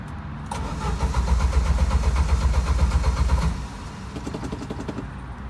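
A Jeep YJ engine cranks and catches, then runs at a steady, fairly loud idle close by, the rumble easing slightly after a few seconds.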